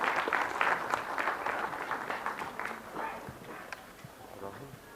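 A crowd at a cleanliness award ceremony in Chandigarh keeps up steady applause for a winning hospital, the clapping dense at first and gradually thinning out.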